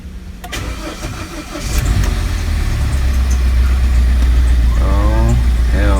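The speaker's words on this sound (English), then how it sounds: "Now we're gonna fire up the car." A 2018 Hyundai Accent engine cranks and catches after a head gasket replacement, rising into a steady, rough idle that drones on loudly, with a voice speaking briefly near the end.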